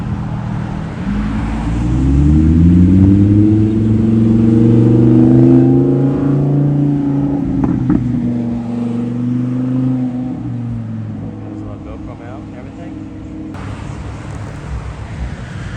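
A car engine swells and passes close by, revving as it goes, then fades into a softer rumble of another vehicle moving off in the distance.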